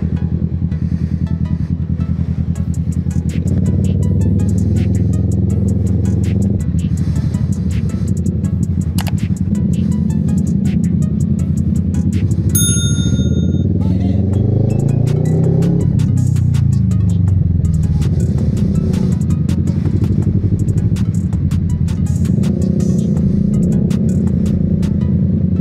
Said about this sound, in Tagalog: So traffic, no?